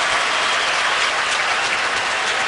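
Crowd noise at a Steelers vs. Raiders NFL stadium game as an injured player is tended by medical staff, a dense continuous roar of distant cheering and applause, steady and loud with no talk.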